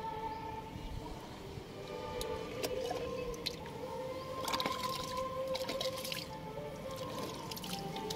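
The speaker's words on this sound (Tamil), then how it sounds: "ஓல் வழியாக தண்ணி வர ஆரம்பிச்சிருச்சு." Water trickling and dripping through holes in a small clay pot, a steady close wet patter with occasional drip clicks and soft bubbling, alone without talk.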